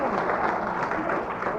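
An audience applauds at a fiery spoken address, a dense, loud, continuous wash of clapping that holds steady throughout, with voices mixed into the din.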